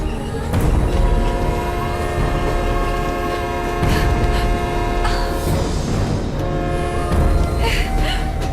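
A train rolling along in a Hindi action film, loud steady rumble and rail noise with tonal horn-like sustained notes layered over it, close and continuous.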